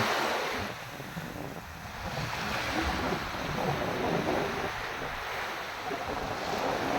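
Sea waves roll onto a quiet tropical beach lined with coconut palms, a loud broad wash that surges and recedes over several seconds with wind buffeting the microphone.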